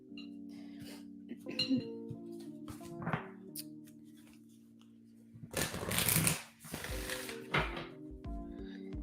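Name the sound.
shuffling tarot card decks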